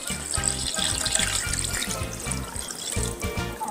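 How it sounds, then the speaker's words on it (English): Tap water runs steadily into a cooking pot, filling it all the way up to cover oxtail for a stew, with a continuous splashing rush throughout. "I'm gonna fill the pot all the way up."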